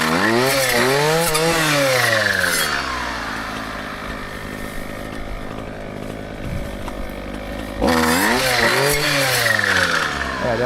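A two-stroke brushcutter engine revs hard in rising and falling whines, drops to a rough, uneven idle for several seconds, then revs up again loudly at close range.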